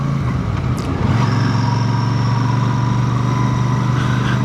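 A Royal Enfield Super Meteor 650 motorcycle engine hums steadily and loudly at a constant low drone, with wind noise around it and no talking.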